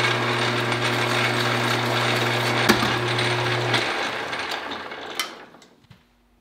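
Sandpaper rubs a metal part from a Remington 30-06 rifle in a steady scratchy stroke over a low mechanical hum. The scraping goes on for about five seconds, then the hum stops and the sound trails off into silence.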